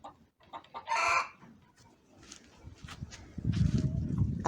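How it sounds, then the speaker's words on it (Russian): A chicken clucks close by in a farmyard. Its short calls stand out among scattered shuffling and background rustle. "А ты зачем курица вышла?"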